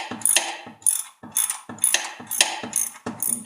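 A ratchet clicks rapidly in repeated short strokes while tightening a 17 mm drain bolt during an oil change on a BMW 328i E46, close and crisp with brief pauses between swings.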